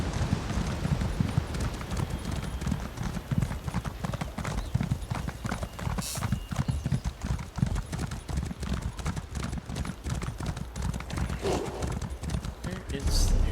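Horse hooves clip-clop steadily while riding in the video game Elder Scrolls Online, a continuous close rhythmic beat with an occasional whinny, under a person talking.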